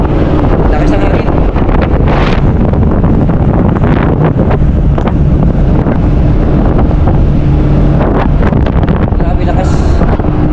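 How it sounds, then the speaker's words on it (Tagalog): Strong wind buffets the microphone aboard a passenger boat at sea in Mindanao, a constant loud roar with rushing wave and engine noise beneath, no clear speech. "Lakas ng hangin."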